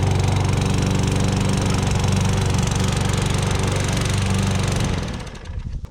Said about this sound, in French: donc la tondeuse avance toute seule grâce à la traction intégrée.